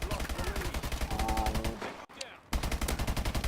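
Rapid automatic gunfire from a long-range rifle in the Call of Duty: Advanced Warfare shooter game rattles in dense, loud bursts, broken by a brief pause before firing resumes, with someone talking over it.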